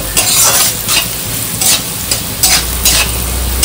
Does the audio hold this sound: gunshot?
no